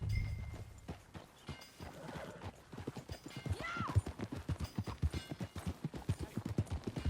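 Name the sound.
horse hooves clip-clopping, from a video game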